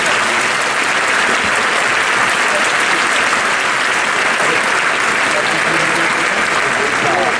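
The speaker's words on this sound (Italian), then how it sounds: "che accogliamo con un applauso" An audience at a Barbarigo school centenary event applauds to welcome Bishop Claudio, dense, steady clapping filling the room at full strength throughout, with no voices standing out.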